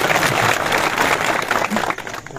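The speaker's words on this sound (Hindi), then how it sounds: "ताली मारने को दिल करता तो मार लीजिए ना" Audience applause at a public gathering during an address by a police chief on a visit to Gulabgarh, Reasi; dense, steady clapping from a crowd fills the clip, fading slightly near the end.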